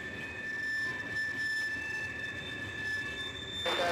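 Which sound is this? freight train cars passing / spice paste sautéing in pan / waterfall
freight train cars passing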